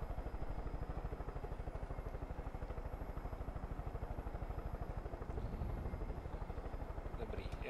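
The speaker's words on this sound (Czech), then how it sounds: "plácneme tam vrtulník" Helicopter in Far Cry 5 settling in to land, its rotor beating in a fast, even, pulsing chop that stays steady throughout, fairly close.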